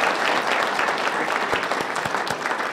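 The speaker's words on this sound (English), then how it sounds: "can we get a round of applause for Alex?" An audience at a town advisory board meeting claps steadily for a county staff member, a continuous wash of many hands with a few sharper near claps standing out, lasting under three seconds.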